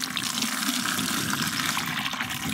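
Water flows from a garden hose into a 3/4-inch pipe of a U siphon test rig, a steady gushing, splashing rush at a constant level for a few seconds, close by and with no voices.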